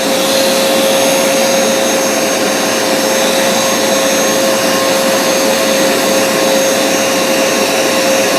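Bissell CrossWave or Hoover SmartWash wet floor cleaner running steadily and loudly up close, a constant motor drone with a sharp tonal whine, scrubbing up a spilled grape juice stain with no talking.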